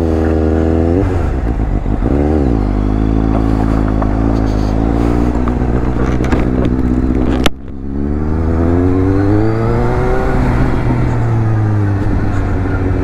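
A Suzuki GSX S750 motorcycle engine revs loudly and close at start, with repeated throttle blips rising and falling, a sharp pop midway, then settling into a rough idle with speech over it.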